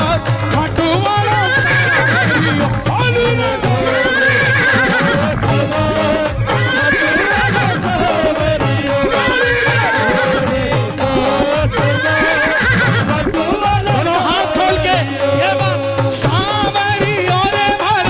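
Repeated loud horse neighs and whinnies with faint clip-clop, mixed into a busy, music-like backdrop for a devotional Hindi story about a blue horse.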